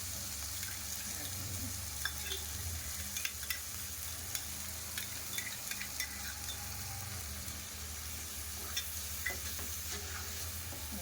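A ground spice paste sizzles and fries in a pan for a guar curry, a steady close crackling hiss with occasional stirring clinks and scrapes, no talking.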